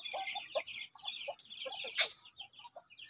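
Chickens cluck in short, scattered bursts at moderate distance, with one sharper squawk partway through on a hot day outdoors.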